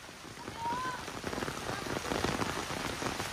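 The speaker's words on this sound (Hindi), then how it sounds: "तो फाइनली बारिश शुरू हो चुका है" Steady rain falling outdoors, a dense, continuous patter of drops hitting surfaces close by throughout, with no speech.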